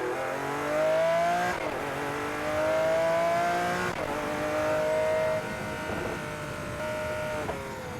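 A Lamborghini with a naturally aspirated V12 and single-clutch transmission accelerates hard, its engine climbing through several gears in rising howls, each shift cutting in sharply before the next pull, loud and close.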